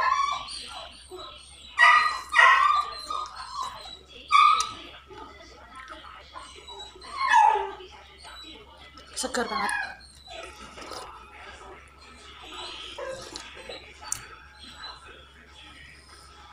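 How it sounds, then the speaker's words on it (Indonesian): A few distant dog barks and yips ring out intermittently in a quiet room while a person speaks softly nearby. "Mohon maaf kalau ada suara guguk,"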